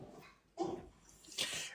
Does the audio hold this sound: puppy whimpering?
yes